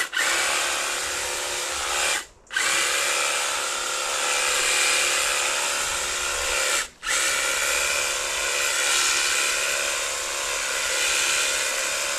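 A single-sided hedge trimmer cuts through a hedge with a steady, close buzzing drone, broken by two brief pauses where the motor stops.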